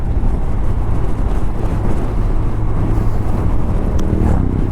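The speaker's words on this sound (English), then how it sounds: "It's making that bloody noise again, like a whining, bearing, rubbing or squealing, and then it stops." A 1984 Honda CB700SC Nighthawk S motorcycle running with a steady, loud low engine drone and wind buffeting, a faint whine or squeal riding over it near the end.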